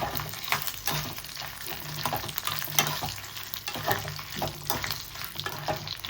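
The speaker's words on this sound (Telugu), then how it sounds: "తర్వాత ఎండుమిర్చి సిమ్లో పెట్టుకొని నిదానంగా వేపేసుకోవాలి" Dried red chillies frying slowly in oil on low heat for a Kandi Pachhadi, a steady soft sizzle with scraping stirs and small crackles running throughout, close and moderately quiet, with no talking.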